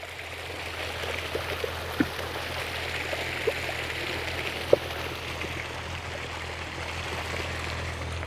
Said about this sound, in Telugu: వాటర్ మళ్ళీకి వెళ్తున్నాయి కదా